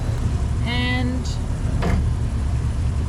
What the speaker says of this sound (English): We've got one engine on